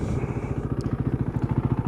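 A KTM RC390 motorcycle idles nearby with a steady, even pulsing throb while its radiator fan runs as a faint whir underneath.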